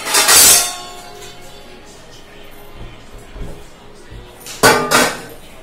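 Washed morning dishes and utensils clatter as they are set down in a kitchen, with a loud metallic clank at the start, a few soft knocks in the middle and two more clinks near the end.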